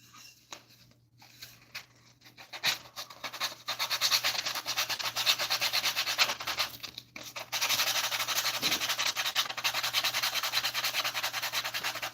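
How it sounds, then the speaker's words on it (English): Hand sanding scrubs away leftover green paint in close, rhythmic scratchy strokes, starting with a few light passes and then continuing steadily over a faint background hum. "So now I'm just sanding away."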